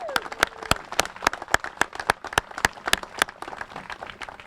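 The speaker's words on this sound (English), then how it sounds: "I'd like to hear a round of applause for all the guys that really did the work out here." A small crowd claps at a veterans memorial re-dedication ceremony outdoors, with distinct individual hand claps, fairly close and sparse, forming a steady rhythmic round of applause.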